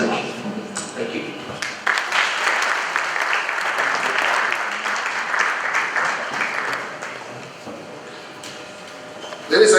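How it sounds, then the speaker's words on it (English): An audience at a breakfast event applauds after a speech, a sustained burst of clapping close by that swells, holds for several seconds, then tapers off, with talk before and after. "let's give them a round of applause again"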